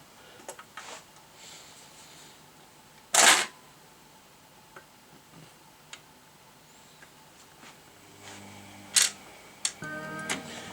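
HMV Stereomaster record changer at work: a single sharp clack as a record drops onto the platter, later another click and a brief mechanical whirr and rattle of the autochanger mechanism, close and clear with quiet room tone between.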